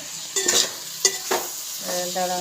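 Onion, tomato and masala frying in a pan for chicken curry, with short bursts of stirring and sizzle, a couple of sharp utensil scrapes and a low steady hiss near the end.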